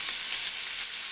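Onions sauté in a pan with a bright, continuous sizzle that stays close and even over a brief moment, with no voices.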